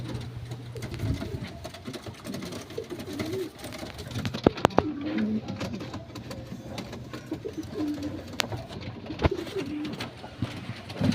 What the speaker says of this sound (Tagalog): Ito mga kaibon, ano to? Bloodline na ito mga kaibon, Berkamin.